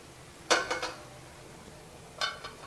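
Two brief metallic clanks, a lid set down on a pot of gongura pachadi with a little rattle, separated by a quiet pause.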